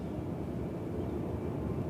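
A heavy aircraft takes off at Cincinnati/Northern Kentucky International Airport, heard as a steady, distant, low jet-engine rumble that holds evenly throughout, with no talk over it.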